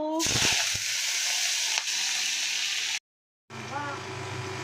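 Pre-cut potatoes hit hot oil in a wok with a loud, hissing sizzle that continues steadily, broken by a short silence before the frying resumes with a low hum beneath.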